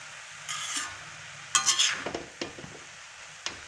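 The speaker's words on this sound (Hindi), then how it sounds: "गाजर के हलवे को हमें कंटिन्यू हिलाना पड़ता है जिससे कि वो नीचे ना लग जाए बर्तन पे" Carrot halwa (gajar ka halwa) being stirred in a pan, with soft scraping and spoon knocks against the metal over a faint cooking sizzle, the strokes coming in uneven bursts.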